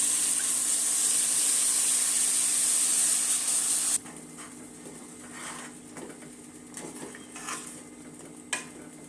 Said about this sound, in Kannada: ರುಬ್ಬಿರೋ ಮಸಾಲ ಸೇರಿಸ್ತಾ ಇದ್ದೀನಿ.